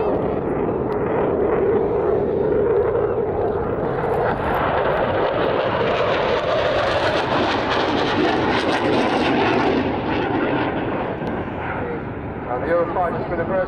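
A Eurofighter jet making a flypast at the Weston Air Festival 2017, with a loud continuous jet engine roar that swells and shifts in pitch as it passes, dominating the whole stretch.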